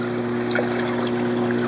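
Water trickles and splashes as it is scooped from an aquarium tank for a brine shrimp hatchery, a soft continuous liquid sound over a steady low mechanical hum.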